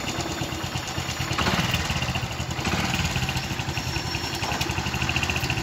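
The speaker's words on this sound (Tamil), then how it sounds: "இப்போ ஹைட்ரஜன்ல ஓடிட்டே தான் இருக்கு" A small engine running on hydrogen brown gas hums at a steady idle, a dense, even mechanical chugging that continues for several seconds with no voices over it.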